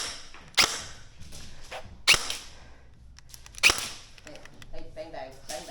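Airsoft guns fire BBs in a tactical shooting gallery, three sharp separate cracks spaced over a second apart, with people talking quietly in between.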